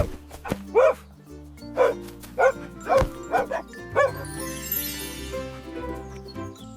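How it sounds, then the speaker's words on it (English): A dog barks repeatedly in a steady series of about seven woofs, fairly close, followed by a brief noisy rustle. "Look, a dog."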